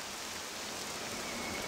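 Steady rain falls in the video game Octopath Traveler 2, a continuous soft hiss of rainfall with no break, faint and even, with no voices.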